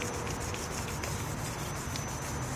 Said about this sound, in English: So you need to really sand it down a little bit before you apply